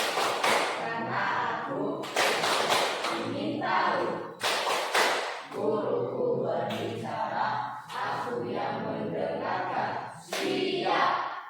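A classroom of Indonesian pupils runs through a rhythmic concentration clap. Repeated loud bursts of group hand claps fall in a steady pattern, and chanting voices mix in between the bursts.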